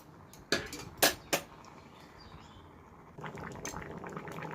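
Tomatoes with salt in a covered pot on the stove: three sharp metallic clinks of lid and pot, then a soft, steady bubbling of boiling liquid close by.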